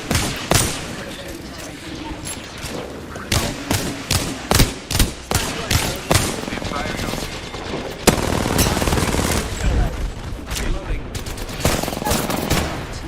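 Sustained gunfire in a shooter video game: sharp individual shots crack out over a dense, continuous rattle of automatic fire and explosions, loud and close throughout, with voices talking in the mix.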